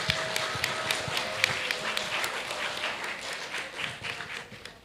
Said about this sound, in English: I'd like to ask you, to invite you to give a big applause to the 3 keynote speakers.